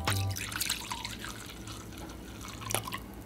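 Knob Creek 100 proof Kentucky bourbon whiskey pours into a glass, making a short, close trickle and gurgle followed by a few faint drips.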